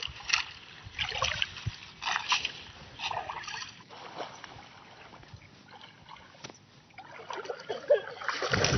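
Splashing and sloshing water as someone wades knee-deep through a flooded soybean field in bursts of steps, with faint background voices and noise.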